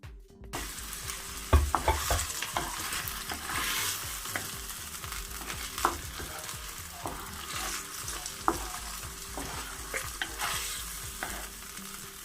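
Chicken breast fries with peppers and tomatoes in a hot pan, a continuous close sizzle broken by repeated scraping and clattering stirs at an irregular rhythm, with no talking.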